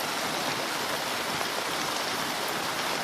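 Heavy rain pours steadily in a yard by a gutter, a dense, unbroken hiss of falling water that stays loud and even throughout with no voices.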